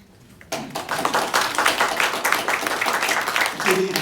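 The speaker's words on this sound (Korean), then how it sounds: "하나님께 영광의 박수를 드리겠습니다" A church congregation at a Sunday worship service bursts into applause after a brief quiet start, many hands clapping steadily and fairly loud, with a voice faintly audible toward the end.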